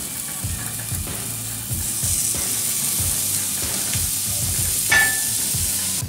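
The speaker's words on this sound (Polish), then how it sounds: "na średnio rozgrzaną patelnię grillową wrzucamy też piersi z kurczaka" Chicken breasts seasoned with thyme and rosemary sizzle without fat on a moderately heated grill pan, a steady close frying hiss with low knocks and scraping throughout, brightening briefly near the end.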